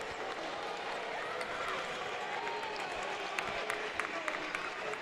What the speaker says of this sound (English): This Nutter Center crowd is loud right now.